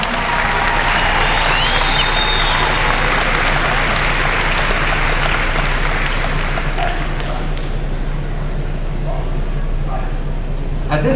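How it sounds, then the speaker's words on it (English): A graduation audience applauds loudly with dense, sustained clapping that thins toward the end, while a voice comes over a public-address system underneath. "Let's give our ROTC a big round of applause as well."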